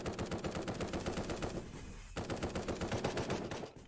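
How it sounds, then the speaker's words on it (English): Rapid automatic gunfire in the shooter video game Project Genesis, fired from the hip while standing still, with two sustained bursts of evenly spaced shots separated by a brief pause, loud and close. "I can fire stationary hip fire without controlling recoil"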